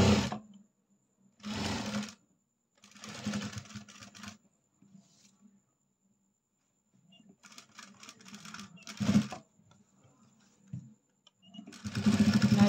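A sewing machine stitches a blouse seam in several separate bursts of running, each a few seconds long, with quiet pauses between them. The sound is close and moderately loud, and no one talks.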